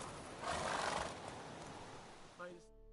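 Roach the horse in The Witcher 3 lets out a neigh amid game sound and a voice, followed by a short whinny near the end.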